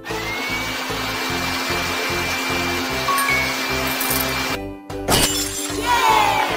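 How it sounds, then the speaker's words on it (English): A cartoon vacuum cleaner cleaning a carpet in a baby-care game, with a loud, steady whirring motor hum that pulses rhythmically, then a brief cut-out followed by a clattering burst and sparkly chimes. "Vacuum here too, please."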